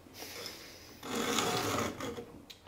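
A hand file rasps across chainsaw chain teeth during sharpening, with lighter scraping at first and then a steady, louder filing stroke for about a second before it eases off, close and alone.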